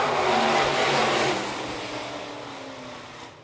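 Sport modified race cars roar around the dirt track corners at a county raceway, a loud broadband engine drone that swells near and then eases off as the pack moves away, with no talking.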